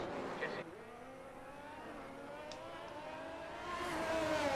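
Ferrari Formula 1 car engine in the F1 23 racing game at the Saudi circuit, a steady high whine rising and falling in pitch with gear changes, heard over faint commentary.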